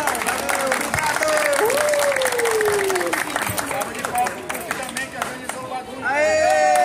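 Applause and cheering from a crowd at a breaking battle with powermoves, clapping mixed with crowd noise and babble while a voice slides up and down across the sound.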